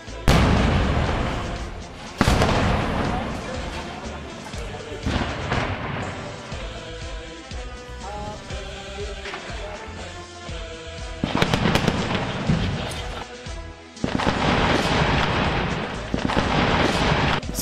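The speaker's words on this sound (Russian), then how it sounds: "Вот рядом с нами бьет мина." Mortar rounds and gunfire hit close by in urban combat in Jobar, Syria, with sharp loud blasts and booms recurring through a dense, continuous roar of battle noise.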